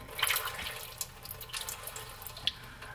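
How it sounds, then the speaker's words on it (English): Transmission fluid pours from a loosened pan bolt on a Ford Explorer's 5R55W transmission and spatters into a drain pan below, a continuous close trickling splash with no voice. "as I loosen that last one, it started spitting a bunch of fluid out"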